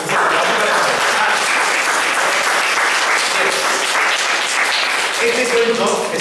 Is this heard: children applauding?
yes